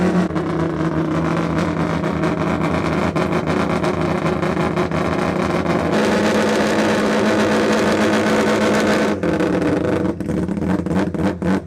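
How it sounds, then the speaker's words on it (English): Wise Produce four-rotor Mazda RX7 time attack car at a rotary meet, revving hard nearby: a loud, raspy, continuous engine roar that shifts pitch and intensity around six and nine seconds, with no talk over it. "The Wise Produce four-rotor, the time attack car is next door. It is not quiet."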